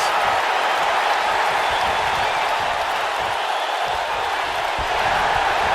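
A wrestling arena crowd applauds and cheers in a dense, continuous roar that holds steady throughout, with faint talk mixed in.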